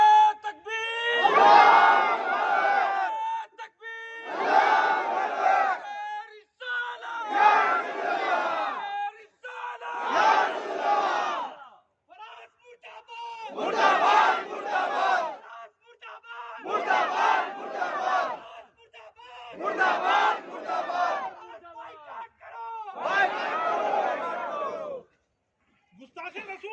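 Protest crowd at a rally in Jamshedpur answering a Takbir call with loud massed chanting, repeated in rhythmic bursts separated by short pauses, filling the air close by.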